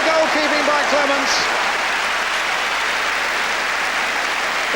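Stadium crowd of about twenty thousand at White Hart Lane applauding a goalkeeping save at a football match, a dense sustained roar of clapping, with a voice speaking over it at the start.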